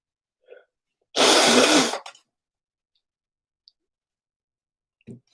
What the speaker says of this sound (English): I'm really hating having to blow my nose on mic